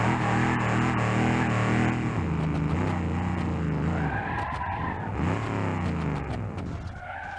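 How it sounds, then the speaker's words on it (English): A muscle car in BeamNG.Drive skids with its rear brakes locked, the tires squealing loudly and continuously with wavering pitch over engine drone for about seven seconds. "Yeah, the rear brakes really lock up."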